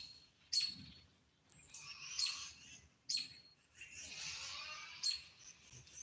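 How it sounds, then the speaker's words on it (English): Faint high chirps and tweets repeat in short bursts, small birds calling at a distance over a quiet background. "If you hear that right now, all you can hear is some birds"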